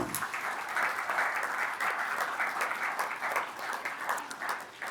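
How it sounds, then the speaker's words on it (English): Sustained crowd applause at an annual meeting of a military officers' association, steady and fairly distant, a dense wash of many hands clapping that holds level for the whole stretch with no voices over it. "Let's give all of them a round of applause."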